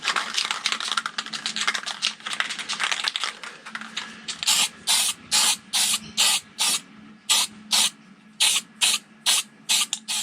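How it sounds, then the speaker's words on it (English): Primer spraying in a spray booth on Detroit Diesel engine parts: a series of short, loud hissing bursts in a steady rhythm, following a stretch of denser, continuous hissing and clatter. "let's take these into the spray booth and get some primer on them."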